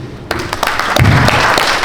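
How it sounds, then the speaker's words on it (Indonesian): Audience at a West Java government meeting gives a short round of applause after thanks to the regent, clapping starting abruptly and filling the room at close range. "Terima kasih Pak, tepuk tangan dulu."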